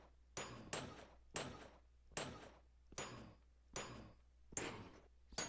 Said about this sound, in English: let's pound this thing in. Grab ourselves our hammer